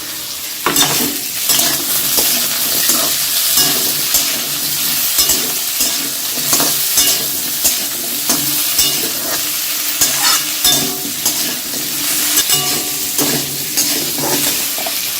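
Vegetables, including carrots, fry in a pan for navratan. Loud, continuous sizzling runs under repeated, close scraping strokes of a spatula being stirred.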